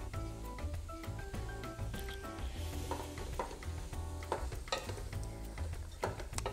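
Leek, onion, garlic and thyme sizzle softly in a pan while being stirred, a quiet continuous crackle with scraping strokes beneath background music.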